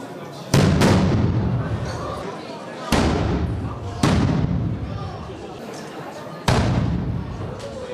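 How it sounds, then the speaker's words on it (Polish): Ceremonial salute cannons fire at a royal ball at the castle in Kuczyn: four loud, booming shots at uneven intervals, each followed by a long decaying echo. "Sygnałem do rozpoczęcia zabawy był pięciokrotny wystrzał z dział wiwatówek."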